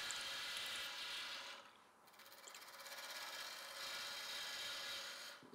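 Hand-cut tenon being worked on the base of a box made from a Banksia seed pod, giving a steady close rasping and filing scrape on wood with a brief pause near the two-second mark, no talk.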